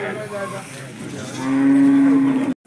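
A calf at a busy livestock market lets out one loud, close, drawn-out moo that rises to a strong sustained tone and cuts off abruptly, over a faint murmur of crowd noise.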